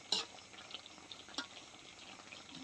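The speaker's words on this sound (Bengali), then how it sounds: "আর রস এখন টকবক টকবক করতেছে" Sugar syrup with mango pieces for a sweet-sour-spicy mango pickle bubbles gently in a pan over very low heat, a soft, steady simmering hiss broken by two brief, sharper pops, fairly quiet and with no voices.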